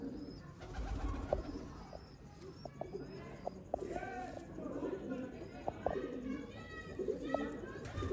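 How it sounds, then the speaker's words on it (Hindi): Cross-bred Ali wale and golden pigeons coo softly and repeatedly nearby, layered with chattering calls and light fluttering, set against background murmur and faint voices. "क्रॉस के कबूतर हैं ये। अली वाले और गोल्डन कबूतर क्रॉस है"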